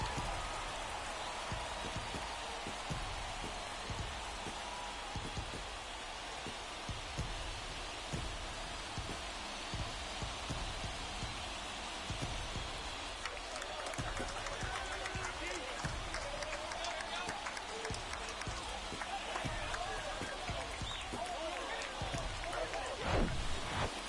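Steady broadband crowd roar from a stadium after a home run in the MLB The Show baseball video game, sustained and swelling slightly toward the end, with a commentator talking over it.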